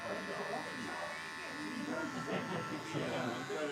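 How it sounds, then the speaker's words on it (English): An Andis detailer hair trimmer buzzes steadily near the head while tidying edges during a teenager's haircut, its constant electric hum running under a person talking. "Now I'm using my Andis detailers, and I'm just going to tidy up around these edges"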